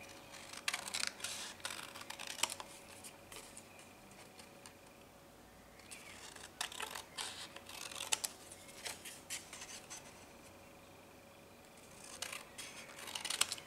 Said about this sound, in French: Et on va couper.